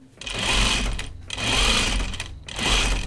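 A sewing machine stitches denim for Ginger jeans in three steady, loud bursts of rapid whirring, each about a second long with brief stops between them, close up and with no talking.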